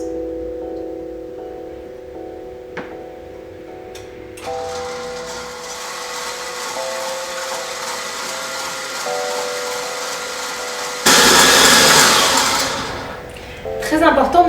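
An electric hand mixer whips egg whites for meringue kisses, running as a steady motor whir under someone speaking in French, then revving to a much louder, harsher whine near the end as the speed increases.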